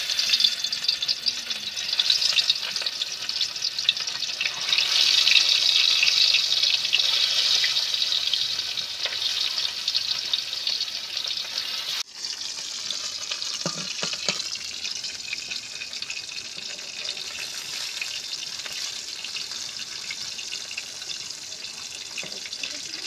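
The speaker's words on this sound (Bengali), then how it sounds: "তেল গরম হয়ে গেছে, আমি একটা একটা মাছ ছেড়ে দেবো এবার।" Lata fish frying in hot oil in a kitchen pan, a steady bright sizzle and crackle throughout, with a brief drop and shift in texture midway as pieces settle into the oil.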